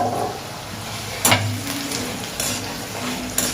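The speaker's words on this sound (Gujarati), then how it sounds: "આપણું તેલ ગરમ થઈ ગયું છે તો બટાકાને એમાં આપણે બોઇલ કરી દઈશું" Potato pieces fry in hot oil and are stirred in a pan for a Gujarati potato chutney, a steady close sizzle broken by a few short scraping stirs.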